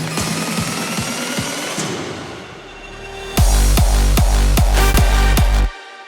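An EDM track drops in after a thinning, reversed buildup: a loud, pounding kick and bass pattern with punchy evenly spaced hits that cut off abruptly near the end. No voices.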